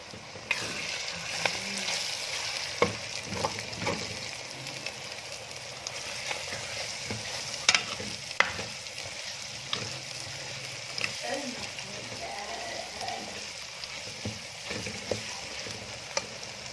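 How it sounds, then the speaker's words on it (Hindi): Chicken pieces fry in a pan with black pepper and other spices for a Chinese daal mash chicken, giving a steady close sizzle broken by scattered clicks and scrapes of stirring. "चिकन को तकरीबन 4 से 5 मिनट फ्राई करने के बाद हम इसमें डालेंगे मसाले।"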